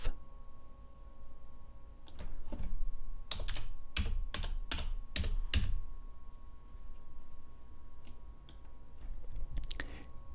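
Keys clatter on a computer keyboard in short bursts of crisp clicks with pauses between them, close and clear over a low steady hum, with no talking.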